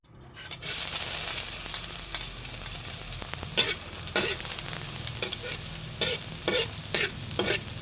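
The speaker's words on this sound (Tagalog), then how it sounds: "Gigisan na po ni Ardo yung bawang, sibuyas" Garlic and onion sizzle steadily in hot oil as they are sautéed for chicken tinola, with a spatula scraping and clinking against the pan at irregular intervals, close and continuous, with no talking.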